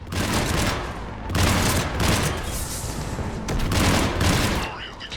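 Spaceship cannons fire in heavy bursts in Mass Effect 3, loud rapid volleys of blasts and booms with short gaps between them.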